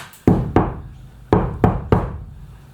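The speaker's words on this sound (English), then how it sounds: "let's go around and hit the panels and see how it sounds" Five dull, deadened knocks on Mitsubishi Rosa bus panels fitted with sound deadening, in two quick pairs and a single hit, each thud short with little ringing.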